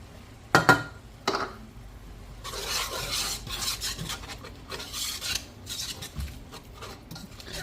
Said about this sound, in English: whisk in flour until smooth and do not brown